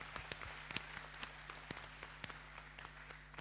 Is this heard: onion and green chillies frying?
no